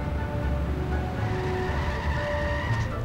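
Homer Simpson's car in The Simpsons Hit and Run, its engine droning steadily as the tires skid and squeal on and off, loud and close with no talking over it.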